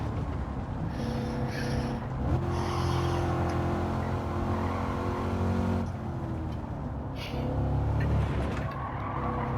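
Chevrolet C8 Corvette race car in Gran Turismo 7, lapping a difficult track at night: a loud, sustained engine note rising and falling through gear shifts, with brief tire squeals.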